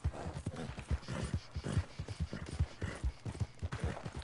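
Rhythmic clip-clop of a horse's hooves galloping in the Red Dead Online video game, steady repeated thuds close and fairly loud throughout, with no talk over them.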